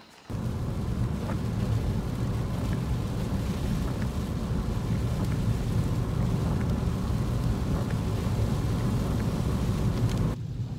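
Heavy rain pours steadily on Eleuthera, a dense, unbroken wash of drops with low thunder rumbling underneath, loud and constant throughout with no voices.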